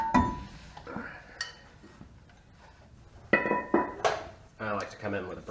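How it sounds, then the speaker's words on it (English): Someone pulls a brake rotor off the rear hub of a Jeep JK, giving scattered metallic clanks and scrapes that are louder near the end, with a voice heard between them. "Get the rotor off of here."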